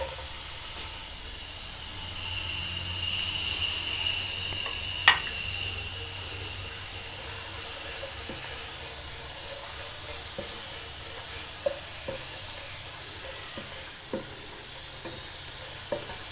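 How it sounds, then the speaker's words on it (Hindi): Carrots fry in oil in a pan for egg fried rice, a soft continuous sizzle with occasional sharp scrapes and taps of a spoon stirring, one louder knock early on, no talk. "गाजर को हम 3 से 4 मिनट तक फ्राई करेंगे ताकि ये अच्छे से हो जाए।"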